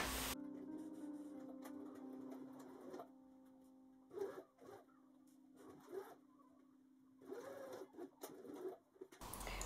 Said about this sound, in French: Nous allons épingler et venir passer une couture tout du long.